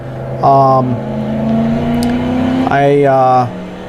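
A Corvette C7 Stingray in Assetto Corsa runs around a track, its engine note droning steadily. The revs climb in two strong bursts at the start and the end, loud and close, with no other sounds over it.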